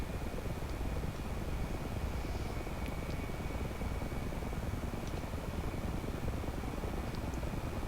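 An AH-6J Little Bird helicopter's engine spools up during start in the DCS World flight simulator, producing a steady, even whine and rush that holds constant throughout, with no talking.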